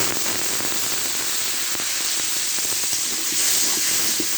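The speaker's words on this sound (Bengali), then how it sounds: "সামান্য পরিমাণে জল দিলাম।" Water hits a hot pan of red amaranth leaves, setting off a sustained loud sizzle and hiss with scattered crackling pops that runs continuously without talk.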